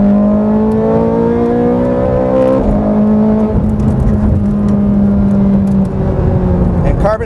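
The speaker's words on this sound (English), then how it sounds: "Here's what this car sounds like at full tilt." A sports car with carbon ceramic brakes pulls hard at full throttle in second gear on a closed race course, its engine note climbing steadily in pitch, then a quick shift and another rising pull, loud and close from inside the cabin.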